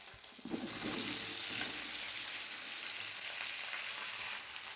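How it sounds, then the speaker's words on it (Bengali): Ginger paste and vegetables hit hot oil and sizzle loudly, a dense, continuous frying hiss that swells at once and holds steady up close. "দিয়ে দেবো তেলের মধ্যে আদা বাটা"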